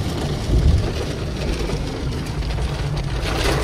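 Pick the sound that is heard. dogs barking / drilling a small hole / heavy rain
heavy rain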